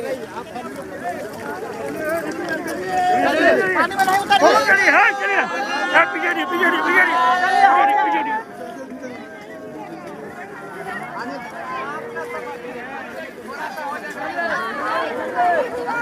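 A large crowd of people moving and chattering together, a dense babble of overlapping voices with shuffling, louder in the middle and thinning later.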